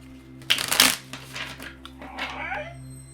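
Tarot cards are shuffled close by in a quick, crisp burst of riffling that fades into softer handling, with a low steady hum underneath.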